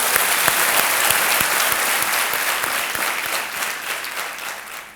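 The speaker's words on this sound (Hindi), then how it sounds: "एक बार फिर ताली बजा देते हैं आपके लिए।" Studio audience on the Hindi quiz show Kaun Banega Crorepati applauding, a dense, steady wash of clapping that fills the whole stretch and tapers slightly toward the end, with no talk over it.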